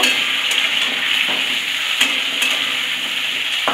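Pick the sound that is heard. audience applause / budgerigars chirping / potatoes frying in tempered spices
potatoes frying in tempered spices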